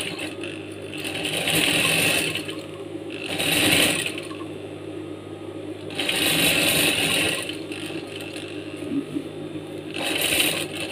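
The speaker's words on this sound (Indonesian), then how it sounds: "Kita jahit dari sini." A sewing machine stitches a vest pocket in several bursts of rapid mechanical whirring and clatter, each lasting about a second, separated by quieter pauses with light handling.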